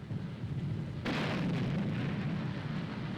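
Covering gunfire from the near shore during a wartime troop crossing: a dense, continuous rumble of distant artillery and explosions that swells suddenly about a third of the way in and stays heavy to the end.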